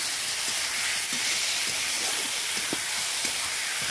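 Fried potatoes and egg go into a pan of hot oil, giving a continuous loud sizzle with scattered soft clinks and stirring scrapes throughout, close up and without talk.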